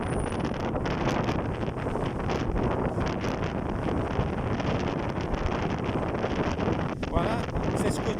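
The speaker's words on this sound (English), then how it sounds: "this is the tramontana wind here in the region" A strong tramontana wind roars without a break on the Costa Brava coast at Palamós, buffeting the microphone in a dense, continuous rush, with a voice faintly beneath.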